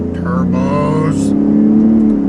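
Turbocharged car accelerating, a close engine note climbing in pitch through a quick rev with a hissing whoosh near the top, then settling into a steady drone, with a voice briefly over it.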